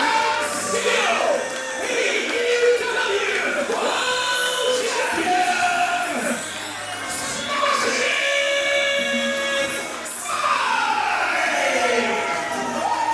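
A wrestling crowd at a live championship show cheers and shouts steadily after a win, a loud sustained roar with whoops and yells rising and falling throughout.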